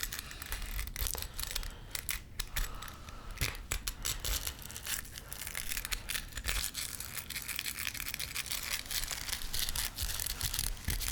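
Bristles of an ASMR tool are rubbed and rippled close to the microphone, giving a steady, dense crackling and scratching texture for several seconds with brief louder flicks.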